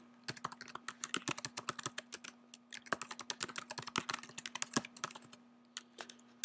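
Rapid, irregular keystrokes on a computer keyboard as a username is entered at a webmail login, close and crisp in bursts with short pauses, alone with a faint steady hum beneath.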